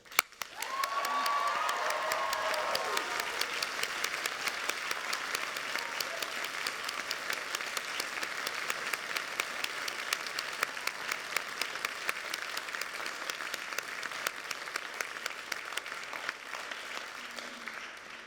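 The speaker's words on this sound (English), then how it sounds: "giving a huge round of applause and a really loud cheer to your friends and families" Sustained applause from a large audience at a university graduation, dense clapping with scattered cheers at the start, continuing steadily throughout.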